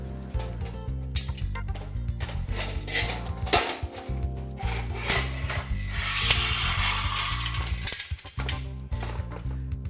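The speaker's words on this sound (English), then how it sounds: "Then insert the top profile into the bottom profile." A garage door hurricane vertical brace is assembled as its top profile is pushed into the bottom profile, producing close metallic clanks, rattles and ratchet-like scraping in a busy, continuous stretch.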